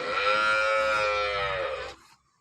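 A single long, loud moo from a dairy cow close by, sustained for about two seconds before cutting off, with no talk over it.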